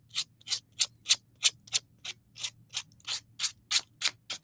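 Rhythmic scratchy rubbing of sandpaper on the edges of a napkin-art canvas, about a dozen quick back-and-forth strokes, close and fairly soft against a low steady hum.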